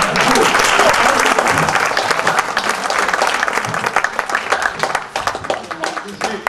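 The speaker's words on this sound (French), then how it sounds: "Voilà, on applaudit bien fort." A theater audience claps loudly for a magician's stage act, dense, vigorous applause that starts at full strength and gradually thins toward the end, with some voices mixed in.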